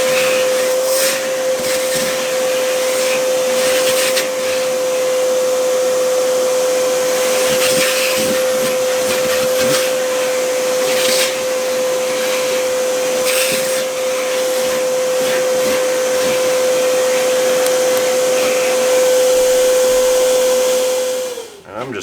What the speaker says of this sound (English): Next, we'll vacuum all the shrapnel out of the tire.